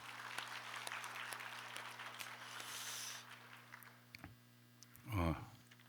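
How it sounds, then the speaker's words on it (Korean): Congratulatory applause from a church congregation during a Sunday daytime worship service, a steady broadband patter of many hands over a low hum, fading after about four seconds, followed by a brief close voiced sound near the end. "우리 김상희 권사님에게 축하의 박수 부탁드립니다"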